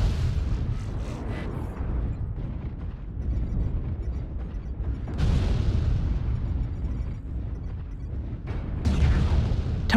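Heavy booming explosions from a mech being destroyed in the MechWarrior Online battle game, a dense rumbling blast roll sustained throughout with fresh loud bursts about midway and near the end, no talking.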